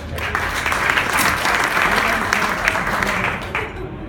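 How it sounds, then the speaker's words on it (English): An audience at an illusionist's show applauds steadily and loudly for about four seconds, the clapping fading slightly at the end. "Give it a round of applause"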